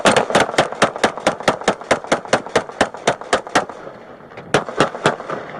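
Rapid volley of gunshots fired during a police confrontation, about twenty loud, sharp cracks in fast succession close by, briefly pausing near the end before a few more shots.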